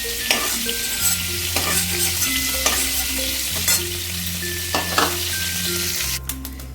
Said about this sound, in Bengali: গ্যাসের হাই ফ্লেমেই একটুখানি নাড়াচাড়া করে নিয়ে যাই